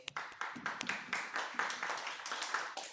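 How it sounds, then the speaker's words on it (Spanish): Warm applause from a church congregation during a Spanish-language sermon, a dense patter of many hands clapping steadily throughout at moderate distance, with no talking over it. "Dense un aplauso, por favor"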